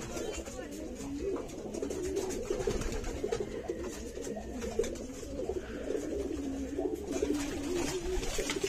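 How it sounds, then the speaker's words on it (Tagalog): Many white pigeons coo together in a continuous low, throaty burble, fairly close, at a botanical garden. Faint voices can be heard in the background. "Ang daming kalapati"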